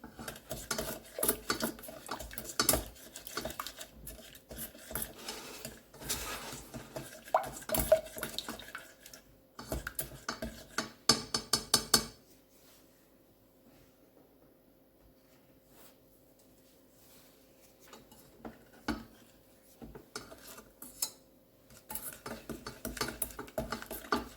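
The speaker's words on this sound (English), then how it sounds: "Stir it until it is melted." A spoon stirs half a cup of sugar in a pot until it melts, scraping and clinking in quick irregular runs, then falls almost silent for several seconds before faint stirring returns.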